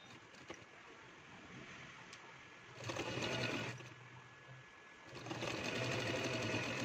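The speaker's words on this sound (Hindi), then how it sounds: "सबसे पहले हम बीच से लगाएंगे सिलाई।" A sewing machine stitches a seam on palazzo pants in two bursts of rapid whirring, close and steady, with quieter handling noise between runs.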